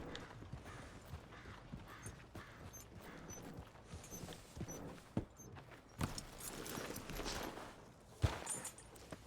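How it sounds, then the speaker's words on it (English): Horse hooves clip-clop at a walk in Red Dead Redemption 2, steady, fairly quiet plodding steps with a few sharper knocks and creaks as the horse is ridden into a stable. "I think I actually have to ride the horse into the stable"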